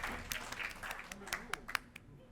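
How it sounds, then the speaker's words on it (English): A wrestling audience gives a polite golf clap of sparse, scattered handclaps, faint and uneven beneath a commentator's voice. "Golf clap."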